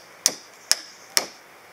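A hammer that throws sparks strikes three times at an even pace, each hit a sharp, bright metallic clank close by with a short ringing decay.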